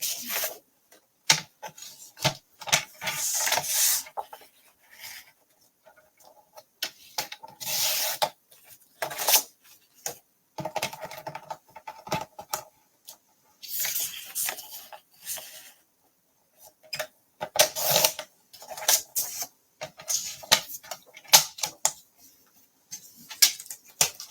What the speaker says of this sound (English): I'm going to cut a 6-inch square from this